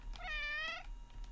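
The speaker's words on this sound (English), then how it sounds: "Meowing." A single cat meow from the video game OneShot, clear and moderately loud, with a rising then falling tone, over a low background hum and no talk.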